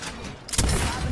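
A gunshot in a battle royale video game: a sudden loud broadband blast partway through, followed by a sustained noisy rumble, over quieter game background.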